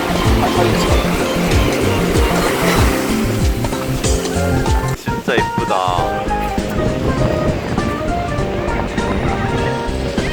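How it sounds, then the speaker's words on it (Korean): Strong ocean waves at Sokcho beach crash and slap continuously against the shore, loud and close, with heavy wind buffeting the microphone throughout. "파도가 되게 센거 같아 거의 막 철썩철썩 때리고 있어"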